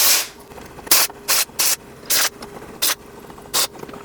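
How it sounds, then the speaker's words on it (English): Short bursts of aerosol cleaner spray onto a tuner cap, about six or seven sharp hissing blasts in an uneven rhythm, close and loud, no talk. "We'll take some of this stuff, spray it all over."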